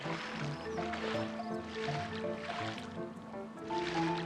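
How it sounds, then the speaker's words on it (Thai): Gentle flowing water with soft liquid trickles and splashes in the video game Tower of Fantasy, playing at low level alongside layered in-game music. "มีน้ำไหลด้วยว่ะ"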